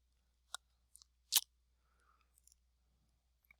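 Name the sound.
computer mouse double click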